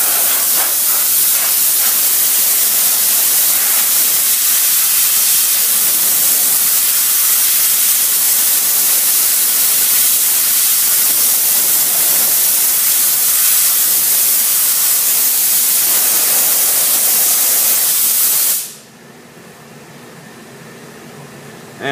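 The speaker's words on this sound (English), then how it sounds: "Take a blow gun and dry the repaired and primed area" A blow gun blasts a steady, loud hiss of compressed air across a repaired, primed area of a car body, continuous for nearly twenty seconds before cutting off abruptly into quiet.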